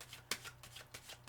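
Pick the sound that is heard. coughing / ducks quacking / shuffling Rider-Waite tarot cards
shuffling Rider-Waite tarot cards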